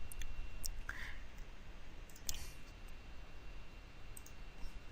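A few faint computer mouse clicks, made while signing up for a free Unity account on a website, sound sparsely over a low steady background hum with no talk.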